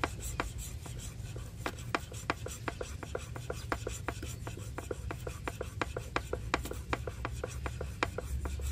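Thread-cutting scissors blade drawn across a sharpening stone, giving a steady run of dry rasping strokes, each ending in a sharp scrape, close and moderately quiet with no talking.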